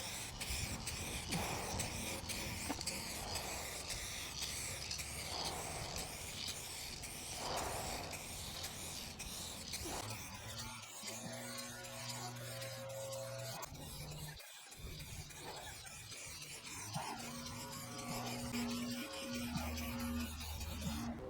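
Aerosol spray cans apply clear coat to a car panel in a backyard paint job, long hissing spray bursts with short pauses and faint handling noises between passes, no talking.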